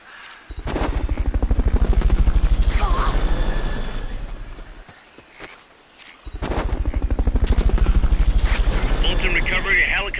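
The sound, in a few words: Fulton recovery helicopter in Metal Gear Solid Peace Walker video game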